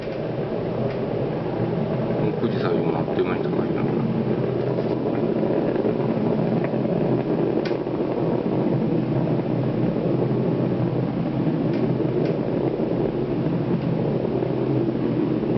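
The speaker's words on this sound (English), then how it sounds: "Engines now revving up, standing by for the throttle up call." Space shuttle Atlantis main engines during its final launch, a continuous broad rumbling roar that holds steady and loud throughout with no pauses.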